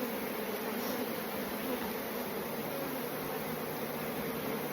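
Honeybees buzzing steadily around an open hive in fall, with drones among the workers, a dense, even hum held close and constant throughout.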